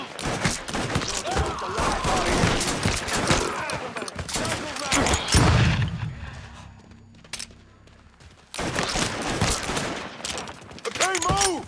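Enemy gunfire in the Mafia III video game: loud, rapid automatic bursts hammer away, drop out briefly, then resume with renewed intensity.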